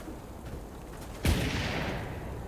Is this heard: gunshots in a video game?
yes